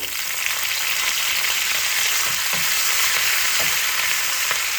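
Shallots, mustard seeds and curry leaves spluttering in hot oil for a tempering, a steady close sizzle with a few sharp pops scattered through, no voices.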